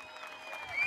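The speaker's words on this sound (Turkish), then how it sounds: "Bu ülkenin çiftçilerine bir alkış" A short burst of crowd clapping at an open-air political rally in Gaziantep, steady and moderately loud, applauding the country's farmers, with a high whistle rising near the end.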